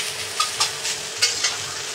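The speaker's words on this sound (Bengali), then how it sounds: "সয়াবিনটাকে একটু ভেজে নিলাম" Soybean chunks frying in a pan for an aloo soybean curry, an even crackling sizzle broken by several short scraping stirs from a utensil, fairly close and clear.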